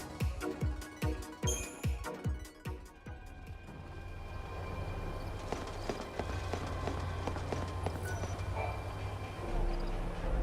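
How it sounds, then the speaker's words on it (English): A train running in the video game Final Fantasy XIII Lightning Returns: a rhythmic series of rumbling clacks in the first few seconds gives way to a steady, loud rolling rumble with faint tonal hum. "Thank goodness the trains are running."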